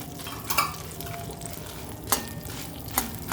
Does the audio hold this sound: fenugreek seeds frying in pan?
yes